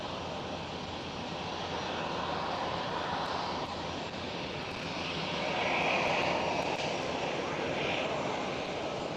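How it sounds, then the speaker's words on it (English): A Delta Airlines Airbus A330 jet takes off, its engines giving a steady, loud broadband roar that swells slightly toward the end, heard outdoors at an airport. "And the Delta Airlines A330 is going right now."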